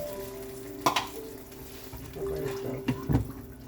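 Japanese vinegar and water are poured into a hot cooking pan while making a sauce. A low sizzle runs throughout, broken by a few short splashing bursts.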